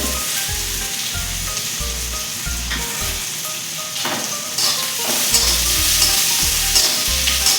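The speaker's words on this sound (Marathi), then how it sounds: "कांदा थोडासा परतून घ्यायचा" Onion with asafoetida and whole spices sautés in a pan, a constant hiss of hot oil punctuated by a low, regular thumping of stirring, close and fairly loud, without any talk.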